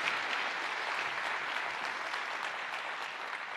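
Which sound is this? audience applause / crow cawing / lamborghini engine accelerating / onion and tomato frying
audience applause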